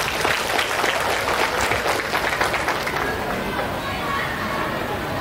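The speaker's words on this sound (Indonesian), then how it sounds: "Tepuk tangan." Sustained clapping from a large crowd at a waste bank program launch event in Indonesia, dense and steady throughout, with some voices mixed into the noise.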